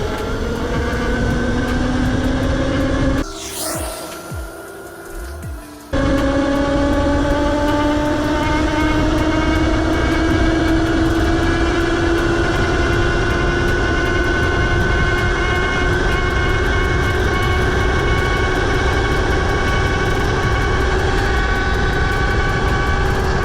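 An e-bike fitted with an E-Box 2.0 motor kit accelerates in mode 1, its electric motor whine rising steadily in pitch over heavy wind rush, loud and continuous, with a brief muffled dip early on.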